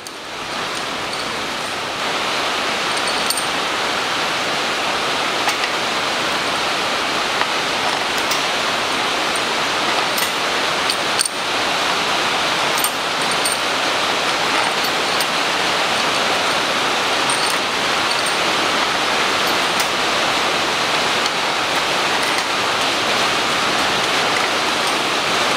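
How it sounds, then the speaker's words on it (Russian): Steady, dense hiss of rain falling on surfaces, unbroken and fairly loud, with occasional faint ticks and drips and no voices. "Дождь немножко успокоился, а то опять шума много."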